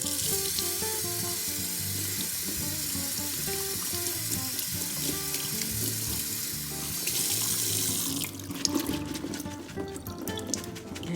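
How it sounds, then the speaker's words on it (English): Seed sprouts rinsed under a running kitchen tap: a steady, close stream of water splashing into a sink, turning brighter and more spattery near the end as the flow shifts, with no talking. "let's give these a final rinse before we put them out on a paper towel"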